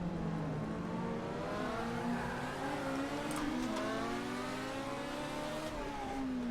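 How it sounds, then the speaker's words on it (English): A race car fitted with a quad-rotor engine sound in the Assetto Corsa racing simulator revs continuously, its buzzing rotary tone rising and falling smoothly at close range with no talking. "if this car sounds like it has a quad rotor in front of me, it's because that's the sound that they use for it"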